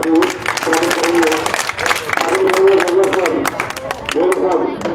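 Audience at a prize-giving for a wrestling-style weight-class event applauds a first-place winner, loud continuous clapping with crowd noise and a raised voice riding over it in bursts.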